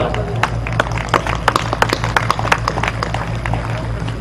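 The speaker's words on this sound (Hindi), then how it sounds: "मेरे स्वागत में आपने जो घनघोर तालियां बजाई हैं" An audience claps to welcome a speaker on stage: a dense patter of many hands beating fast and unevenly, fairly close and moderately loud, with a low hum underneath and no talking.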